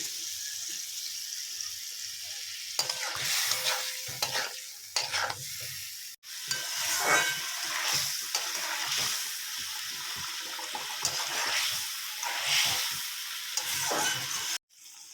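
Spice masala stir-fried with potatoes and fish for a spicy red Bengali home-style curry, with a little water and sugar added: steady sizzling with repeated spoon scrapes and stirring strokes in a pan, close and continuous, briefly breaking off midway.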